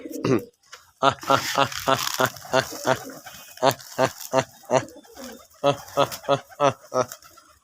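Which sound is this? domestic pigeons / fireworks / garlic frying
domestic pigeons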